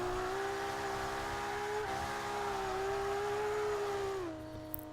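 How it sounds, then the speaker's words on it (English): A car drifts through a corner in Forza 5. The engine holds a steady, droning tone that rises and falls slightly, then drops off near the end, with no voices. "I need a little bit more power to initiate that drift."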